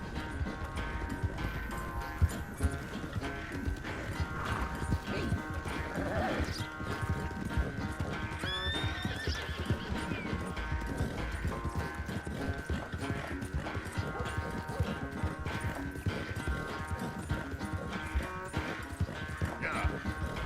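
Horse hooves gallop in a race in Red Dead Redemption 2, a steady, continuous clip-clop lasting the whole stretch, with occasional neighing, voices talking and game music underneath.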